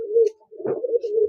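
Imported Teddy pigeons give a couple of soft, low, close coos in quick succession, with no talk.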